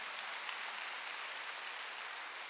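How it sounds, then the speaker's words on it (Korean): A church congregation at a Wednesday worship service applauds, a continuous, even wash of many hands clapping, fairly faint and distant with no talk over it. "박수 한번 주세요."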